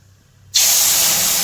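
Spices tipped into leftover fish-frying oil with black cumin in a hot wok for a mustard-flower fish curry, erupting into a loud, steady sizzle after a quiet start that continues unbroken to the end.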